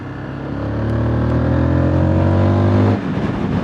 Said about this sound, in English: You have got that single cylinder sound, but it's not vibey.